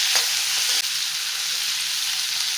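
Green chillies fry in a pan, giving a loud, steady, close hiss of sizzling that carries on evenly with no voices.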